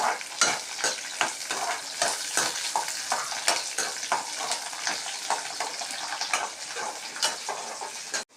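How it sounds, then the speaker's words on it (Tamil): Maggi noodles frying in a pan until crispy, giving a steady close sizzle broken by frequent scraping stirs, with no talking. "நல்லா மொறு மொறுன்னு ஃப்ரை பண்ணிடுங்க"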